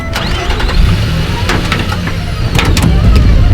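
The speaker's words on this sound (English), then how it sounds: "Start the car, Prufrock!" A car engine cranks and catches in a loud, cartoonish scene, its mid-pitched rumble sputtering and revving over a busy mix of other noise.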